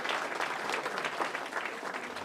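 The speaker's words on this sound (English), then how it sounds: "So a big round of applause for MOAR and the work that they continue to do." Audience members at a recovery month celebration applaud the MOAR organisation, a lively, continuous burst of many hands clapping at close range with a slightly uneven, rippling texture.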